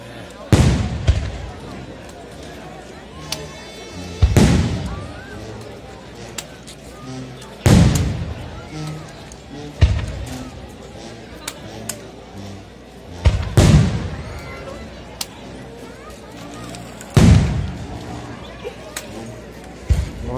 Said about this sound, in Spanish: ¿dónde están los cañonazos?